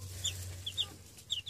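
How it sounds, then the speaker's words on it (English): Chicks of the Cornish cross meat breed chirp in short, high peeps, several scattered calls close by over a steady low hum, with no talking. "They're really nice chicks."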